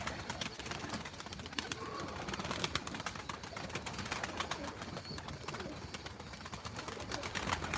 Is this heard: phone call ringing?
no